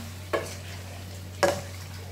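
Chicken adobo with soy sauce is stirred in a pan: two short, distinct scraping strokes about a second apart over a steady low background hum, no voices.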